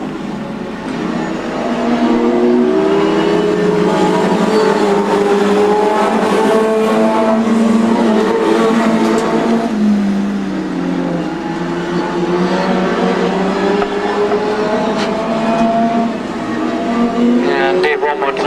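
Stock cars race at Crimond in 2002, their engines roaring loud and close as they rev and sweep past, with the pitch rising and falling throughout while a commentator talks over the noise.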